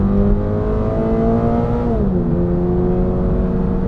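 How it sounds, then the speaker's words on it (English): A 2022 Subaru BRZ with an automatic transmission roars loudly under full throttle from inside the cabin, engine tone climbing steadily, then dropping at a gearshift before rising again. "So I'm just gonna put my foot down here and let you hear this baby roar."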